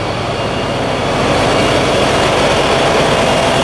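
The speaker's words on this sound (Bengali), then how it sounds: "আর এগুলো হলো ক্যাটারপিলার ব্র্যান্ডের ইঞ্জিন, ক্যাটারপিলার ব্র্যান্ডের।" Caterpillar-brand six-cylinder diesel engines of about 2500 horsepower running in the engine room of a passenger launch, a loud, steady, dense mechanical roar that grows slightly louder partway through, with no voices.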